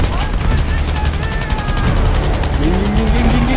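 Gunfire in the shooter game Battlefield V sounds as rapid, dense bursts of automatic fire over loud battle noise, with a voice talking over it.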